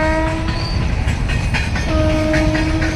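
A train passes close on a railway track, loud and continuous with rumbling wheels and a sustained horn blast at the start and again near the end.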